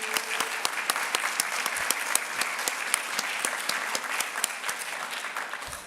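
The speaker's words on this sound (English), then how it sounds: "I just want to say a big round of applause to our family, friends, and mentors" Sustained crowd applause at a convocation and awards ceremony, many hands clapping steadily and loudly throughout with no letup.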